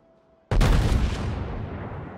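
A battleship's big guns in World of Warships, a USS Colorado broadside going off as one sudden, very loud boom whose rumble rolls on and fades slowly after a quiet start.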